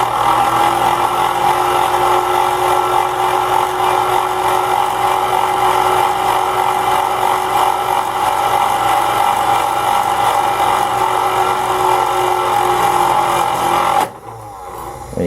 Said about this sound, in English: So as you can see, that bobbin's going back and forth.